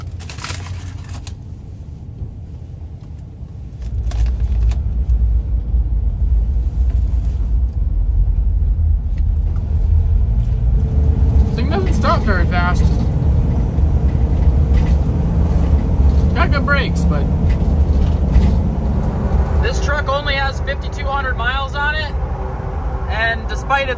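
An NYPD surveillance van rolls along a road climbing into the Adirondack Mountains, its low engine rumble and road noise holding steady and close throughout while a voice talks over it.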